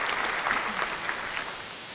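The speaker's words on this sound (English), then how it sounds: "I'm about to give myself a round of applause" Studio audience applause at the close of a live talk show, a moderate burst of clapping that gradually fades out, with no talking over it.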